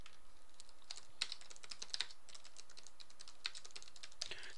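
Continuous typing on a computer keyboard, with quick, uneven, clicky key taps at moderate to faint level and no talk.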